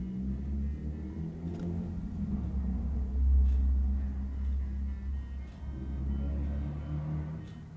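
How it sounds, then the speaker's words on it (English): A loud vehicle rumbles outside with a deep, steady low drone that swells and revs slightly midway, lasting throughout with no speech over it. "Like that stupid vehicle that is really, really loud."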